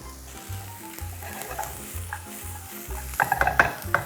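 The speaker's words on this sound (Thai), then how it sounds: "ผัดให้ทุกอย่างพอเข้ากันนะครับ" Vegetables, including carrots, sizzle and hiss in a hot pan while a utensil scrapes and stirs repeatedly, with clinks of metal toward the end.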